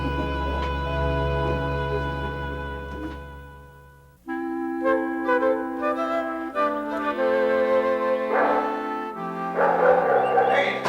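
A dog barks and yips repeatedly in short, loud bursts near the microphone, mixed with whimpering, following a stretch of steady tonal sound.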